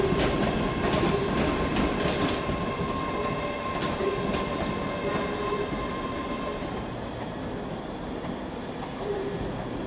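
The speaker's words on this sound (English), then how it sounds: "I presume it's the 12:23 service from Dunblane" A passenger train, a class 385 electric unit, pulls into Edinburgh Waverley station with a steady loud rumble of wheels on rail and a few faint clicks from the track, fading slightly as it slows.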